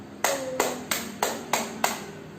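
Six sharp hand claps in a steady counting rhythm, part of a children's clap-counting game, close and clear with no voices.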